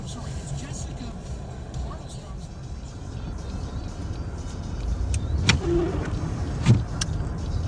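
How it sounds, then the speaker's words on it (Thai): A car driven along a dry dirt road at a factory site, a steady low engine rumble and road noise close by, with a couple of brief louder bumps near the end and no talk. "ขออนุญาตขับรถก่อนนะครับ"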